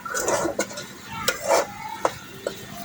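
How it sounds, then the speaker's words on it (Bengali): Onions frying in oil in a pan while being stirred, giving a soft sizzle broken by several sharp scrapes and knocks of a utensil against the pan, close and fairly loud. "পেঁয়াজটা একটুখানি ভাজা ভাজা হয়ে গেলেই পেঁয়াজটা দিছি, একটু ভাজা ভাজা হোক।"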